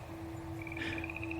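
A boreal chorus frog at a lake gives one short rising trill, faint and a little distant, over a steady background drone.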